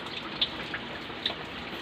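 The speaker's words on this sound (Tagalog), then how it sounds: "Ngayon tuloy-tuloy yung pagbuhos ng ulan." Heavy, continuous rain from Typhoon Crising pours down in Laguna as a dense, steady hiss, with a couple of sharper drips or splashes standing out close by.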